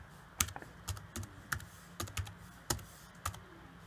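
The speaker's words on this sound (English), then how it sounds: "Time to enter my password." Rapid keystrokes on the keyboard of an Acer Aspire 3610 laptop as a password is typed: about a dozen close, crisp clicks in an uneven rhythm, with no voices.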